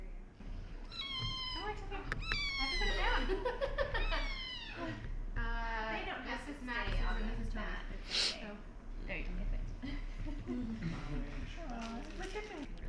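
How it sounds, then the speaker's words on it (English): Two small kittens meowing indoors, a string of thin, high, repeated mews and squeaky cries close to the microphone, with soft breathing and quiet talk in the background. "bringing over her two little kittens"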